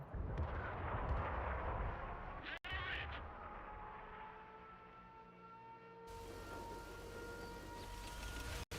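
Tank cannon fire in the World of Tanks video game: a low rumbling boom followed by a sharp crack, another sharp crack near the end, with engine drone and tonal hum underneath.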